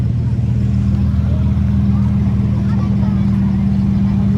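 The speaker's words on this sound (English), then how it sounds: "Just hear it, guys. All the Lamborghinis are on. It literally sounds like a menace." Several Lamborghini supercars idling together, a loud, deep continuous engine burble with a steady low drone and chattering rumble, close by and unbroken.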